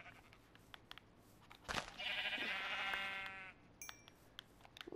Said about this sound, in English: Die, sheep, die.